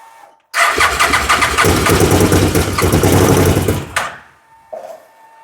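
A CF Moto Z Force 800 side-by-side with a fuel problem, after a fire, cranks loudly for about three and a half seconds with a steady rapid starter chatter that never catches, then a short second blip. Close and alone.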